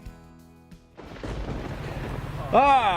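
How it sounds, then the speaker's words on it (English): Thunder from an approaching storm in the Montana or Wyoming outdoors, a sudden loud rumble that swells and rolls on, followed by a voice speaking over it. "First 2 cracks of lightning and thunder."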